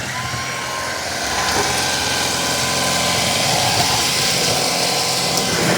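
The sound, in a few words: Shark Reveal vacuum cleaner running on hardwood floor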